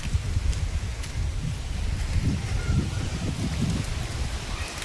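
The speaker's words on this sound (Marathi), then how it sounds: "पाऊस चालू झालाय आमची गावाकडची घरी असं आहे माझ्या माहेरी खूप पाऊस आलाय" Steady rain hisses across surfaces in a village while gusts of wind buffet the microphone in low rumbling bursts.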